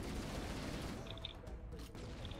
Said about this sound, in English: I threw one grenade and it's just chaining through all of them.